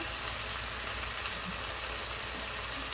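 Chicken and onion searing in a pan: a steady, even sizzle of frying holds throughout, with faint crackles and no voices.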